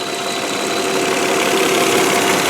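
A 2002 Volvo S80 sedan's 2.9-liter V6 idles steadily up close, a continuous even engine hum with a faint rattle running throughout and no voices.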